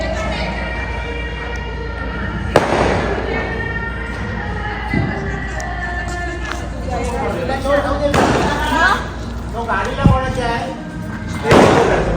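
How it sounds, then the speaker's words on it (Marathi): Firecrackers burst at a street celebration, a few loud booming cracks spaced several seconds apart, heard over continuous talking and crowd noise. "तिकडे फटाके फुटतात बघा"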